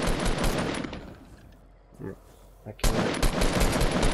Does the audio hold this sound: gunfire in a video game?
yes